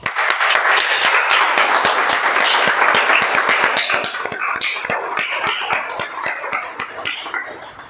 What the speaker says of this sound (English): Let's start with a good clap.